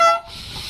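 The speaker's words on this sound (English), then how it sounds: "I literally kept beeping my horn, because I got air horns on this" Air horn on a Hyosung motorcycle gives one short, loud, sharp blast lasting a fraction of a second, followed by lingering traffic noise.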